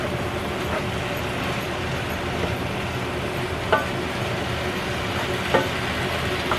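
An air conditioner runs in a home kitchen on a hot day, a steady broadband hum that holds constant throughout, with a couple of faint clicks or knocks rising briefly above it.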